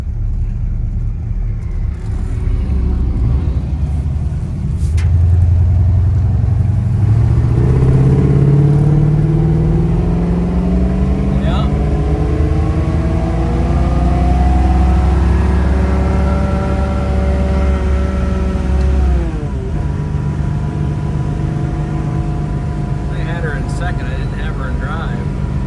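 A 1962 Ford Falcon hot rod with a 302 V8 and aluminum heads drives and accelerates, its loud engine rumble rising through the gears in long sweeps with a shift near the end, continuous and close.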